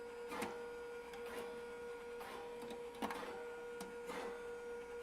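A Skywalker V1 coffee roaster with a loose, noisy drum grinds with a steady mechanical whine, its scraping rasp recurring in regular pulses about once a second, close and unbroken by talk.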